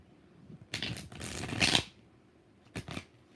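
Tarot cards riffle and slap together in two quick shuffles, a longer ruffling burst followed by a short one, close and crisp with no talking.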